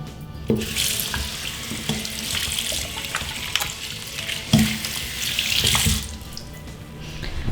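Tap water runs in bursts to rinse body wash made for pregnant women off the skin, splashing close by and loud, stopping and starting several times with brief pauses and no voices.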